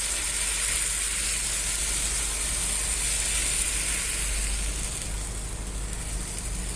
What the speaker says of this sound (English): I'm just going to put a little bit of the batter in the pan.